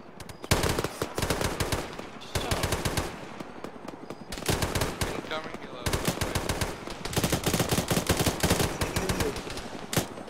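Sustained automatic gunfire aimed at an armed bot in a tactical military shooter game, loud rapid bursts with brief gaps, and voices talking over parts of it.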